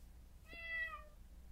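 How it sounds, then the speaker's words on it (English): Cats meow in a Minecraft-style video game, a single drawn-out harmonic meow lasting under a second, clear over a low steady background hum with no talking. "Kitties. Making noise."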